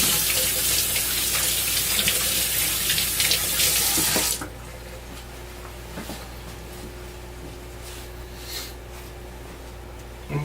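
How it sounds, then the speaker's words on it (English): Water runs steadily from a tap while hands are washed, a loud broad rush for about four seconds that then stops abruptly, leaving a quiet room with faint small sounds. "Let me just wash my hands real quick"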